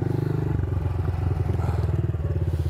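A pit bike motorcycle engine runs on a small dirt track with berms and turns, a loud, close, steady pulsing putter throughout.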